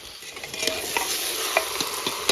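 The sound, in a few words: meat frying and stirred with spices for Kashmiri recipe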